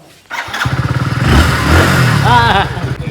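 A motorcycle engine starts up and idles with a steady, throbbing putter, close by, with a brief higher whine near the end.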